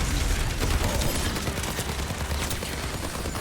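Dense, continuous automatic gunfire from Soldier 76 during his ultimate in the Overwatch video game, loud and rapid with no pauses.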